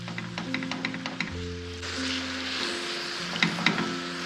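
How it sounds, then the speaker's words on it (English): Sweet potato sizzles faintly while being stir-fried over a low flame in a pan, Kerala village-style, with a soft steady hiss that swells partway through, plus a few light clicks of stirring. "Just barely you can start hearing the sizzle"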